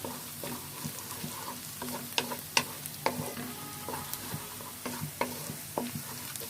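Onion and five-spice seasoning frying in a pan for achari eggplant, with steady sizzling and repeated scraping stir strokes in an irregular rhythm, close and fairly loud, with no talking.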